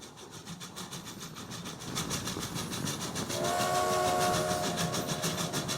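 Video game sound of a Norfolk and Western J-Class steam locomotive: steady chugging, then a long, loud steam whistle blows over the rhythmic puffing, with no voices.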